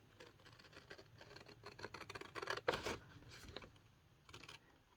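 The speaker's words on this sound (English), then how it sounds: "Watching somebody cut with scissors is like watching paint dry." Scissors snip through paper in short quiet rustling cuts, close but faint, with a slightly louder burst midway and no talk.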